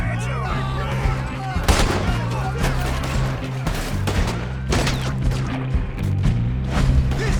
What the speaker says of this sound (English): There he is! Shoot that man!